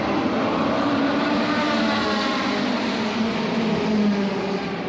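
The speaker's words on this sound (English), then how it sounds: "Although you cannot see the cars, listening to them is already priceless." Vintage race cars, including a Ford Sierra RS 500, circulating at the Nürburgring, heard as a dense, steady engine roar from out of sight, loud and continuous without pauses.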